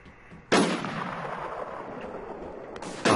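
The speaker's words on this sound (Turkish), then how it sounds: "AWP ile sıkıyor biri." Two sharp, loud AWP sniper rifle shots in a video game, the first a booming crack with a long reverberant tail, the second cut off at the end.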